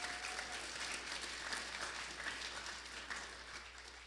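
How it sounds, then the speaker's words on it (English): A roomful of fraternity and sorority members applauds speakers at a sexual violence prevention training. The steady, even clapping is faint and distant, with a low hum beneath it, and it fades slightly toward the end. "round of applause for all the CSCs who got up and spoke in front of you"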